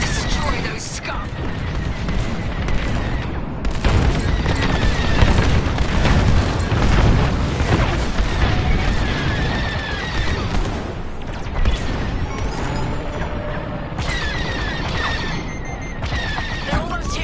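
Space battle in a video game, with dense continuous gunfire bursts and booming explosions filling the whole stretch at high loudness, while voices talk over the combat.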